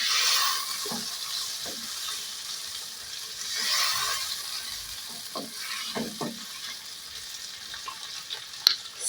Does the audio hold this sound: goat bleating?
no